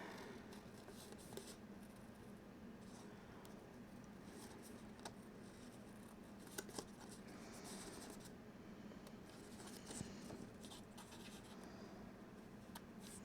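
Scissors snip paper matting pieces for a small file folder album page, a faint, steady run of soft cutting and rustling close by with no talking.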